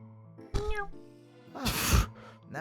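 A cartoonish cat meows in a video game after the player transforms into a cat, two short bright meow calls separated by a pause, close and moderately loud, with game music underneath.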